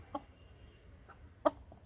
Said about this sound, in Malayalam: ഇത് നമ്മൾ പൂവൻകോഴി.